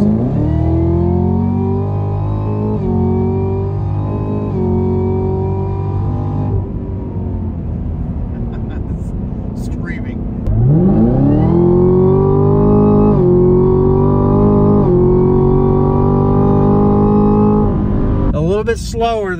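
A Chevrolet Camaro ZL1 engine revs hard under acceleration in a drive, a loud, close, rising mechanical roar that climbs in pitch, drops briefly, then surges again with a strong deep climbing tone.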